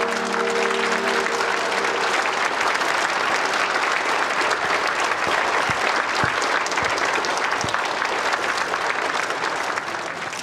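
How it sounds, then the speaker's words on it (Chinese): Warm, dense applause from a crowd at the opening ceremony of a high-end shopping mall, steady and loud for the full stretch as an executive is welcomed to the stage. "下面让我们以热烈的掌声，有请阳光集团执行总裁肖寒肖总为我们上台致辞。 掌声有请"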